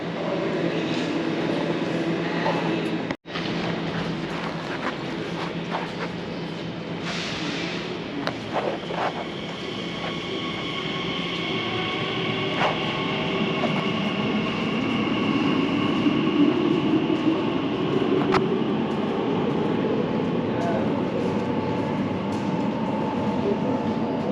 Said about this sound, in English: waiting for the next train to either Gidea Park or Shenfield